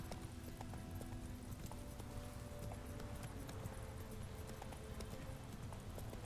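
Geralt's horse Roach trots in The Witcher video game, hooves clip-clopping in a steady, close, continuous rhythm over a constant low ambient bed, with no talk.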